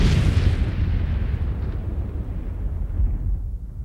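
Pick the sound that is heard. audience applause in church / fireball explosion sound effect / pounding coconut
fireball explosion sound effect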